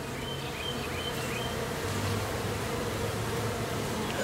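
Honey bees buzz around a hive just after a swarm, a dense steady drone of many insects with individual bees passing close, continuous and moderately loud with no talk.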